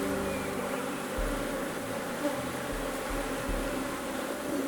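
Honeybees buzz steadily around an open hive during a full inspection, a close, continuous hum at moderate volume with a few low thuds and knocks from handling frames, and no talk over it.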